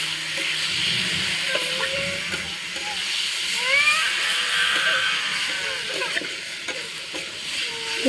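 Food with chili powder fries in a pan while being stirred, a constant hissing sizzle with scraping strokes throughout and faint talking in the background.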